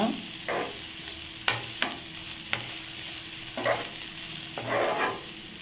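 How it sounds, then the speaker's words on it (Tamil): Asafoetida powder being sautéed in a hot pan, a soft continuous sizzle broken by repeated spoon scrapes and taps against the pan, close and fairly quiet, no talking. "கொஞ்சமாக காயத்தூள் சேர்த்து வதக்கிக்கோங்க"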